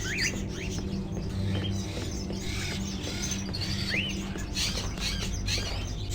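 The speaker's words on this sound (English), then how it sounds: "Are those crows in the cages?" Crows kept in cages in the video game Fahrenheit, heard as scattered chirps and squawks over a steady low drone, with short bird calls rising now and then throughout.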